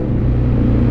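Loud, close engine of a Honda CBR 1000RR sports bike revving, a dense low rumble that holds steady through the short burst, with no talking.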